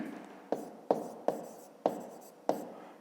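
A pen scratches across paper during a fifth-grade maths exercise, six sharp, evenly spaced strokes, close and crisp, with no voice over them.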